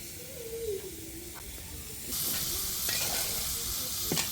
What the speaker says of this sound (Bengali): মাছ ভাজা হচ্ছে আর এটার মধ্যে পোলাও রান্না হবে